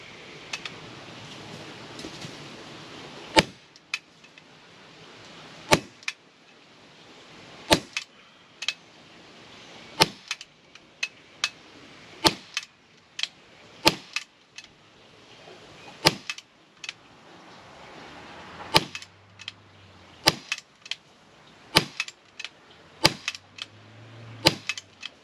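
A Glock 17 Gen5 Black Tungsten Gray blowback BB pistol is chambered and fired repeatedly, giving sharp, close snapping shots at irregular intervals with metallic clacks of the slide between them, and no talk.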